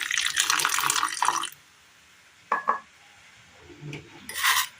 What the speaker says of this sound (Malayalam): അരിഞ്ഞെടുത്ത ചെമ്പരത്തിപ്പൂവ് അടുപ്പത്ത് വെച്ച് കൊടുത്തതിന് ശേഷം ഒരല്പം വെള്ളം ഒഴിച്ച് കൊടുക്കാം